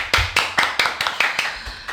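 A few people clap sparsely in a small room to welcome a podcast guest, about eight separate claps spread over two seconds, close and fairly soft.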